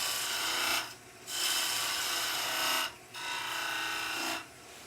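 A wood turning tool from a cryo-treated set cuts into spinning wood on a lathe, a loud steady rasping hiss in long passes that briefly drop off as the tool lifts away.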